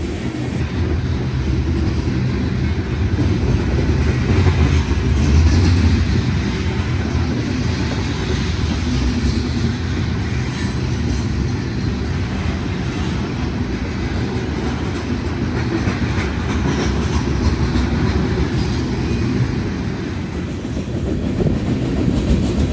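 A heavy BNSF freight train rumbles steadily past on the main line at close range, a continuous low roar of rolling wagons with faint rhythmic clatter throughout.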